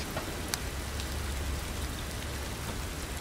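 Steady rain falls continuously on sheds, a dense even patter with a faint drip or two standing out near the start.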